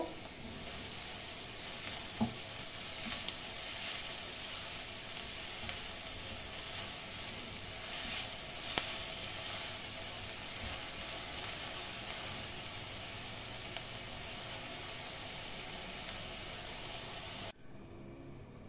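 Onions with a little salt sizzle in an open pressure cooker, a steady bright frying hiss that runs evenly for most of the clip, then cuts off abruptly near the end.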